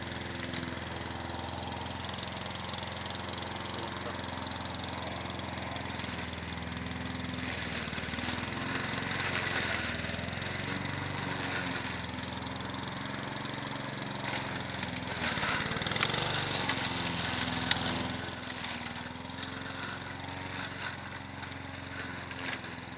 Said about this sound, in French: La tondeuse est vraiment un outil formidable pour broyer la plupart des déchets du jardin